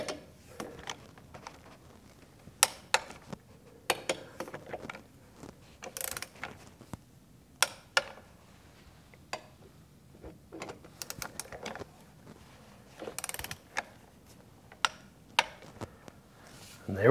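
A hand wrench tightens the wheel studs on a Polaris RZR 170, giving faint, intermittent bursts of ratchet clicks separated by quiet pauses and handling noises.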